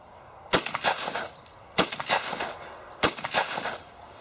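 Weatherby Element 12 gauge autoloader shotgun firing 1 ounce loads at 1180 feet per second outdoors, three sharp, loud blasts about 1.2 seconds apart, each followed by a short rolling echo.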